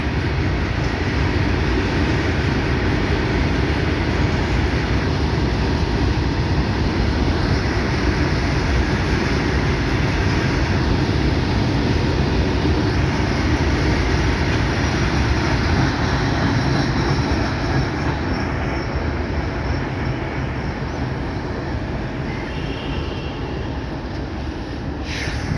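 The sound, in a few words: WDP3A diesel locomotive hauling a passenger train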